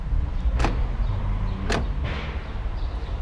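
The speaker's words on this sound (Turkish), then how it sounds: "Çok sesli açılıyor kapılar." Two sharp, loud clunks, about a second apart, as the doors of an Opel Corsa 1.4 Enjoy with automatic transmission open, over a low background rumble.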